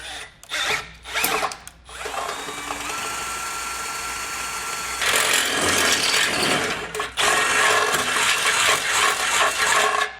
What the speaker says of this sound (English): you're drilling straight and go straight through the frame